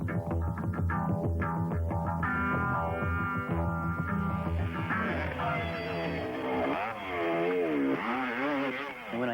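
A motorcycle engine runs close and loud with the throttle held on through a turn. Its pitch climbs and swings up and down in wavering revs, with no talking over it.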